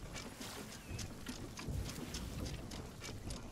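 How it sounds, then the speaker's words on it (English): Stormy rain and wind rush steadily around a pirate ship sailing out of a storm in Sea of Thieves, forming a low, dense wash with faint splashes. "we are actually leaving while there's a storm happening"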